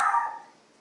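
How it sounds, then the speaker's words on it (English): A small dog gives a single short, sharp bark indoors, close and loud, with a quick decay. "Apologies, it's my little dog."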